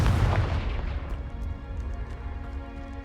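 Confringo fire blast spell from Hogwarts Legacy bursting in a deep, booming explosion with a rumbling tail that fades over a few seconds, fairly quiet overall.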